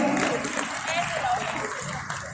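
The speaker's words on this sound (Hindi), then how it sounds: "अरे भाई तालियां बजा दो अपनी बेटी के लिए जोरदार" An audience at the Kargil Rajatam remembrance event at Expomart claps loudly for a young poet, a dense, continuous wash of applause for a couple of seconds with voices mixed in.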